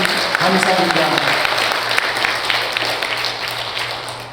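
A congregation at a Korean Liberation Day memorial worship service applauds in a loud, full burst that slowly fades, while a voice speaks over it.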